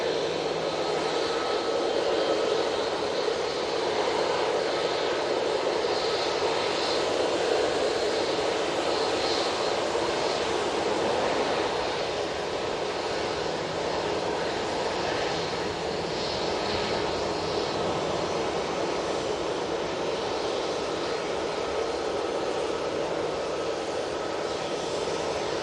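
A Qatar Airways airliner at Manchester Airport produces a continuous jet engine rumble and hiss, steady and moderately loud, easing slightly in the second half, with no speech over it.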